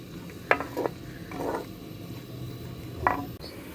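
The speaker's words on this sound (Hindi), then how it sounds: "इसमें प्याज हल्का हल्का ब्राउन होने दें इसको।" Onions fry in a pot while a spoon stirs them, giving several short scraping bursts over a low steady sizzle, close and fairly quiet, with no talking.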